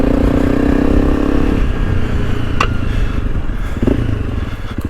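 A Honda CRF300L rally motorcycle rides over rough terrain on a track, its engine droning loudly and steadily throughout, with a few brief clattering knocks and scrapes as the bike bounces.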